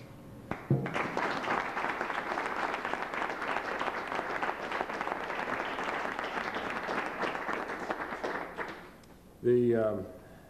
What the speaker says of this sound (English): he deserves a great hand of applause for what he has done here